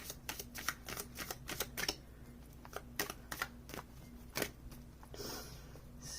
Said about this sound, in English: this deck shuffles so well. Let's just get a good little shuffle here.